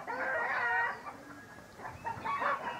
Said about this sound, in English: Looking at the chickens.